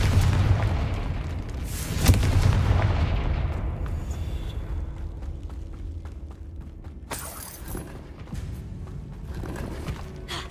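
A Confringo fire spell explodes in the Hogwarts Legacy video game. A loud booming blast lands near the start, a second heavy burst follows around two seconds in, and a long rumbling decay trails off, with a sharp crackling flare later on.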